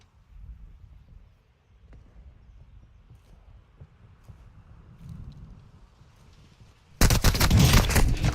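Gunfire in a video game erupts suddenly near the end as a loud, dense burst of rapid shots after a stretch of quiet low rumble and faint ambient sounds.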